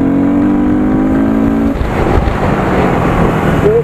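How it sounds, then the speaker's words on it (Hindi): A motorcycle engine revs with a steady rising whine, then drops abruptly at a gear shift into a rougher, louder rumble with road and wind noise, heard close up during a ride. "मैं जो थ्रॉटल रिस्पॉन्स की बात कर रहा था, ये देखो अभी 4 पे है शिफ्ट"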